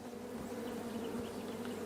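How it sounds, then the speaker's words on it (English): Bees in the video game King's Quest buzz in a steady, close, continuous drone that holds a low hum throughout. "There's probably a way to get those bees off a little later."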